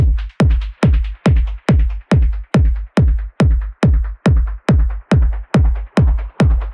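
Texture layer of a techno rumble kick built from a reversed sample, a steady loud pulse of about fourteen pumping hits, each a punchy thud followed by a gritty, hissy swell that ducks before the next beat, with no voices.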